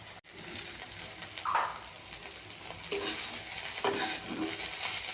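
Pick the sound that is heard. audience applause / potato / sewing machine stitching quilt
potato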